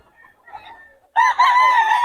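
A pumpkin gamefowl rooster crows loudly and close by, a long sustained call following a brief quieter stretch of faint bird sounds.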